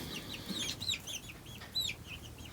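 Red Ranger and Cornish Cross chickens in a pen, giving repeated high chirping clucks and peeps at a moderate distance over a low background hiss.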